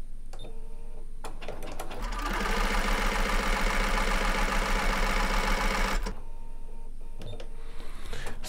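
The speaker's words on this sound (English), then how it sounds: "And then maybe I need to just sew at that 45 degree angle." A Bernina 770 Plus sewing machine stitches a seam at a 45-degree angle in one steady, loud, rapid mechanical run of about four seconds, with quieter handling and clicks before and after.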